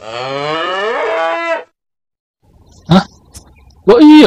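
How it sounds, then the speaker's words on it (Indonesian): A sacrificial cow gives a long, loud, close moo that falls in pitch, followed by silence and then brief casual talk between people. "Itu suaranya kayak suara sapi."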